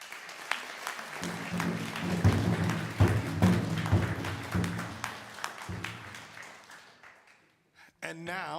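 An audience at a Native graduation honoring ceremony gives a sustained round of applause for Keely, loud and dense with some thuds, fading out near the end before a brief voice returns.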